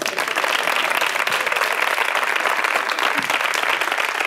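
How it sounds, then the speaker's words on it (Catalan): Applause from an audience at a Catalan stand-up comedy show fills the room, steady dense clapping close and loud throughout, with no talk over it. "Un aplaudiment per aquesta persona."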